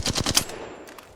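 A rapid burst of automatic gunfire from the Apex Legends video game while practicing recoil control, about four fast shots followed by a fainter trailing shot.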